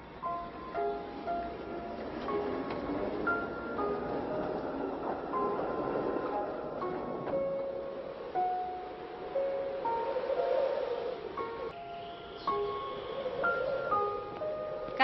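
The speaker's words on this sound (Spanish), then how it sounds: "Casi llega el tranvía antes que tú." A tram pulls in, its steady mechanical rumble and rail noise running throughout, with faint tonal squeals and tones rising over it at a moderate distance while the sound stays fairly constant.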